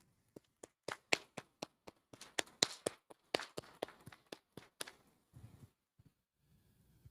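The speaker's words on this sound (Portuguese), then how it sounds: "vamos dar uma salva de palmas para o nosso Senhor Jesus Cristo" A church congregation claps for Jesus Christ in a series of sharp, fairly separate handclaps. A few claps start the run, the rhythm grows denser, then it thins into scattered claps and faint murmuring at the end.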